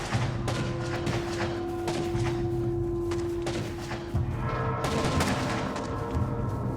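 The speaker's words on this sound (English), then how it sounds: "The gunfire lighting up the ground." Dense, continuous gunfire from a video game clan battle, many weapons firing together in a steady, loud barrage with booming thumps underneath and a sustained electronic tone running through it.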